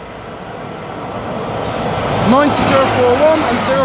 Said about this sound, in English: now approaching will be a pair of Freightliner Class 90s working for Mike 87 from Felixstowe North FLT to Ditton O'Connor